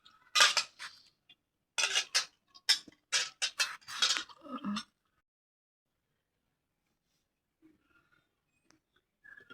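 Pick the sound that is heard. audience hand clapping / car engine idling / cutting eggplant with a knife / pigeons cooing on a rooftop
cutting eggplant with a knife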